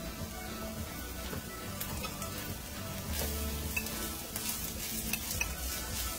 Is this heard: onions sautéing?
yes